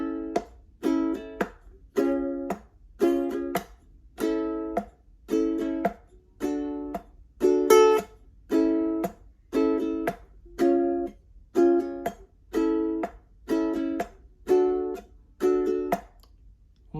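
Ukulele strummed in a song's strumming pattern, a choppy reggae-like hit-strum rhythm of evenly spaced muted chops, about sixteen strokes, steady, close and alone.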